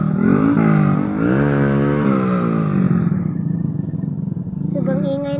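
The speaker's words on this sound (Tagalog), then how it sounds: "Sobrang ingay ng motor cross dito guys." Motocross motorcycle engines rev loudly and continuously nearby, pitch rising and falling with throttle, with a voice briefly talking over them near the end.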